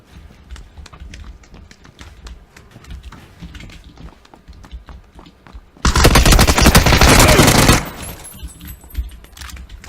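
Automatic gunfire in PUBG Battlegrounds, a loud sustained burst of rapid shots lasting about two seconds midway, following quieter footsteps and scattered game noises.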